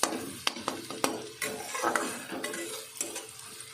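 Sliced onion frying and being stirred in a pan, with a steady sizzle and repeated scraping clicks of a spatula against the metal, fairly close and without talk.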